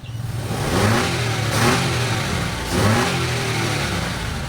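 A Mitsubishi Mirage G4 engine, recently fixed after a no-start fault, revs up from idle in repeated rising pulls with a steady mid-pitched drone between, loud and close, with no talking.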